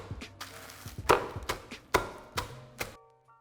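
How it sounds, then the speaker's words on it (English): Pretzels being smashed on a kitchen surface with a makeshift tool: a series of sharp, irregular knocks and crunches, about eight of them, close and fairly loud, ending in quiet. "I need to crush my pretzels for later."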